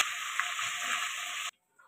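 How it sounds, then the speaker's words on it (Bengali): Ginger paste frying in hot oil with cumin tempering for palak paneer, a steady close hiss of sizzling that cuts off abruptly near the end, leaving near silence. "আদা বাটাটা একটু ভাজা ভাজা করে নিচ্ছি।"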